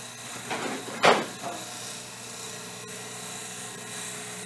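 A wood lathe spins a dry wooden bowl for final turning, a steady motor whine running throughout, with a few brief scraping cuts of the tool near the start before it settles into an even hum.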